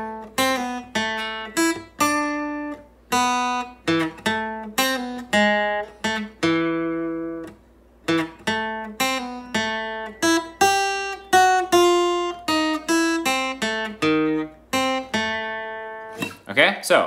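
Guitar plays the lead melody of a theme as plucked single notes in a steady, lilting rhythm. The notes ring clearly and close, with no talk over them.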